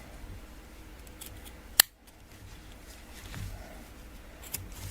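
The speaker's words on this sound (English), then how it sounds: "these little pieces that are sticking out, we're going to just trim them off" Scissors trim small stray pieces of old crochet work close up. One sharp snip stands out, followed by a few quieter cuts and light handling noise in a quiet room.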